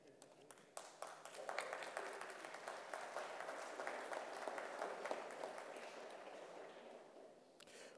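An audience at a university honors convocation applauds a choir, a broad, steady wash of clapping swelling up after a few isolated claps and holding evenly, heard from some distance in a large hall.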